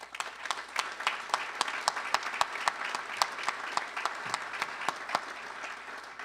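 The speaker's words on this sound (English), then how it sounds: "You ought to give yourself a round of applause for our faculty and staff." A seated audience at a university presidential investiture ceremony at Morehead State University claps steadily, a dense field of sharp individual claps sustained evenly for several seconds, with no talking over it.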